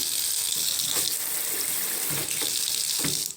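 A hotel room shower runs steadily with a broad hiss of water, with occasional splashes and drips landing on the floor, close and continuous throughout.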